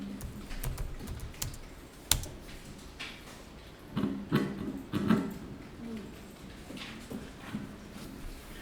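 Computer keyboard typing as accounting data is entered, a steady run of light plastic key clicks with a few sharper taps and short bursts of faster keystrokes, close up and with no talking.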